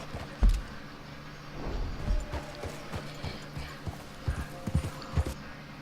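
Horse hooves clip-clop in Red Dead Redemption 2, a run of scattered, fairly close thuds over a low background hum, with no talk.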